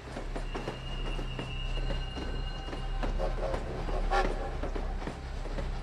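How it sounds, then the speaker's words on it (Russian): A railway wagon rolls along German tracks in a steady low rumble of wheels with rhythmic clicks at rail joints and a faint thin squeal, heard moderately distant under an even background. "по железным дорогам Германии двигался к Балтийскому побережью необычный вагон"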